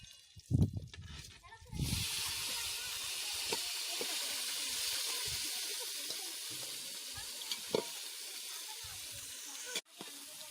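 Tomatoes sauté in a pan for a home-cooked chicken curry, giving a steady, close hiss and sizzle with occasional clinks of a utensil against the pan.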